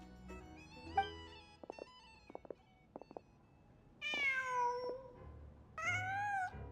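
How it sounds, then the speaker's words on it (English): A cat in the Genshin Impact video game meows twice, clear, close and alone, each call a rising-then-falling tonal cry, after a few soft clicks and a faint background tone. "Just a cat."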